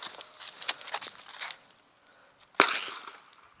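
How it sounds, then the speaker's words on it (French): Light crackling pops scattered over the first half, then a sharp firecracker bang that rings out and fades, heard outdoors with no talking. "on va faire exploser les pétards"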